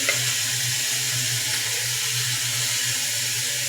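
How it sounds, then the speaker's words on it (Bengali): Vegetables for a special vegetable khichuri being fried in oil in a pan make a loud, steady, hissing sizzle close up with a low hum underneath, continuous and without talk. "বাট আমার সবজিটা আমি ভেজে নিচ্ছি"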